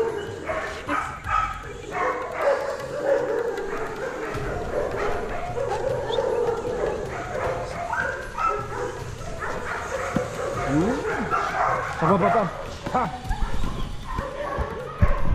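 An explosive-detection sniffer dog at a K9 training centre yips and whimpers in short bursts throughout, mixed under steady chatter from people nearby.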